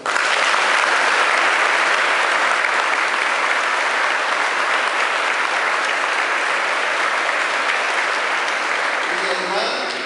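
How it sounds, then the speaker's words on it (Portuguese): A church congregation applauds for Mary during a Catholic service, a dense, sustained wash of many clapping hands that stays loud and even throughout. "Palmas para Maria"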